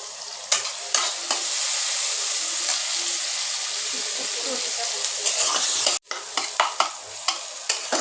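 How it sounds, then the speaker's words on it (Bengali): Chopped onions fry in hot oil in a kadai, a steady loud sizzle with occasional clinks and scrapes of stirring, briefly cut off for a moment before resuming. "পেঁয়াজটা ভাজা হতে হতে এবার দিয়ে দেবো"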